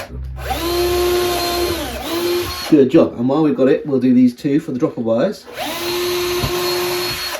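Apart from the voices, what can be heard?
power drill drilling holes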